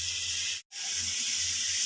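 Bitter gourd drops into a hot pan already holding onion, tomato and salt, setting off a loud, steady sizzling hiss that cuts out for a split second and then resumes just as strongly, with no talking.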